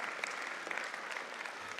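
An audience claps steadily at a graduation ceremony, a dense, even patter of many hands heard at moderate distance with no voices over it.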